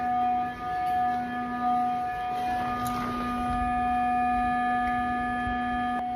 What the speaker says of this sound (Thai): ช่วงเวลานี้ก็จะมีเสียงหวอเหมือนกับว่าเตือนนะ